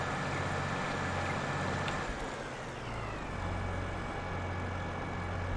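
A tractor pulling a Lizard 3-meter cultivator in Farming Simulator 22 drones with a steady, low engine rumble, dipping briefly in pitch midway before settling back into a constant hum.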